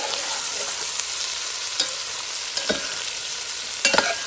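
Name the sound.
onions frying and sizzling in a pan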